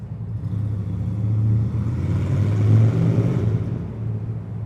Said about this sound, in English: It's just fucking loud.